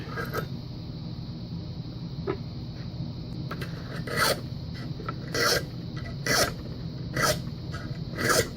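A metal file rasps across a brass key blank in a series of short, separate strokes that grow more regular and louder toward the end, heard close up with no talking.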